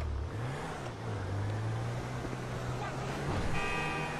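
Car engine revving in the Grand Theft Auto 5 video game, a steady engine drone rising in pitch then holding, fairly quiet under game noise.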